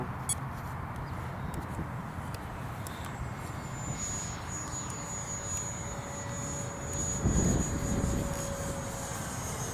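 A GCM Hornet F5K RC sailplane flies with its electric motor running, giving a thin high whine that rises and holds over steady outdoor wind and rumble, with a brief louder gust near the end.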